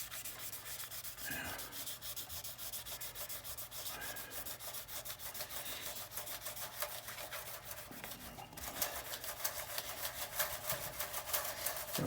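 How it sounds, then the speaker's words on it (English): A cloth wiping and rubbing across guitar frets, quiet rhythmic back-and-forth scrubbing strokes, close but faint, with a few brief louder handling bumps and no talk. "now use the cloth to wipe off the excess"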